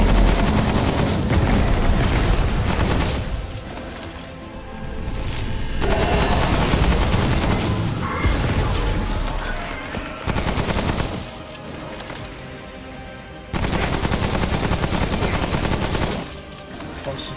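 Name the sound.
gunfire in Remnant: From the Ashes video game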